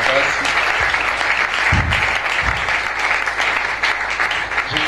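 A church congregation in Kinshasa breaks into loud, sustained applause and cheering to acclaim the Lord, a dense wash of clapping with voices mixed in and some low thumps beneath.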